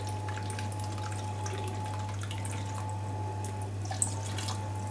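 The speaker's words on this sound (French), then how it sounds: "maintenant on va rajouter les 100 ml de vin blanc" 100 ml of white wine poured from a measuring cup in a home kitchen: a soft, steady liquid trickle lasting several seconds beneath a constant low electrical hum, with one small clink near the end.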